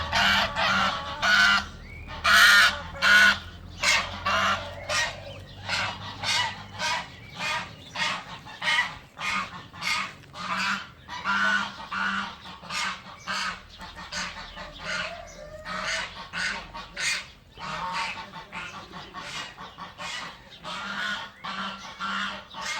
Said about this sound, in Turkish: Gördüğünüz gibi kazlar açıkmış.